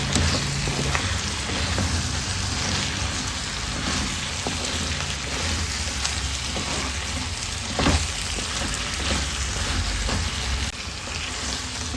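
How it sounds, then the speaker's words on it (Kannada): Brinjal pieces fry in ghee in a pan for a green masala dish, giving a steady, dense sizzle like rain that runs evenly throughout with a few small pops. There is no talking over it. "ಬದನೆಕಾಯಿ ಪೀಸಸನ್ನು ಸೇರಿಸ್ಕೊಂಡು ಫ್ರೈ ಮಾಡ್ಕೊಳ್ಳೋಣ ತುಪ್ಪದಲ್ಲಿ ಚೆನ್ನಾಗಿ ಫ್ರೈ ಮಾಡಿಕೊಳ್ಬೇಕು"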